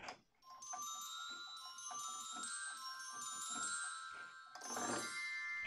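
Soft, high glockenspiel notes in a gentle waltz melody, programmed in FL Studio, ringing clearly with added reverb for a roomy ambience, played alone with no voices.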